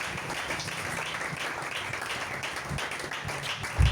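A church congregation breaks into applause, a steady wash of many hands clapping together throughout, with a louder thump near the end.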